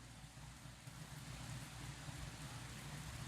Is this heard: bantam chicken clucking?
no